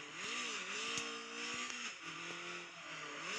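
A car engine in the drifting video game Drift Max revs up and down in continuous, wavering pitch sweeps, sustained and steady throughout with no talking.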